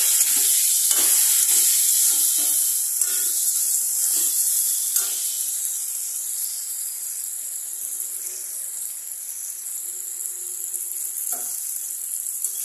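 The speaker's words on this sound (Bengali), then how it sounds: "হলুদ দিয়ে আগে ভালো করে নাড়াচাড়া করে নিচ্ছি।" Potatoes with turmeric stirred and fried in a pan: a constant soft sizzle with a run of rhythmic stirring scrapes early on that thins out, no talking.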